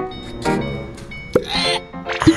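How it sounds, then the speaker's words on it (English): Hiccups come from a young man, several sharp involuntary gulps spaced across a couple of seconds, close and fairly loud, with faint breathy noise between them. "I just got the hiccups of death"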